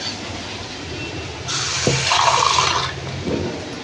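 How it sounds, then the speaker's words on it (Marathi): Water is poured in a short burst into a pan of cooking moong dal with turmeric and asafoetida, a bright splashing gush lasting about a second and a half, followed by a soft sizzle. "तर थोडं पाण्याचा हक्का मारते"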